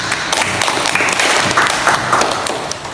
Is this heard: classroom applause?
yes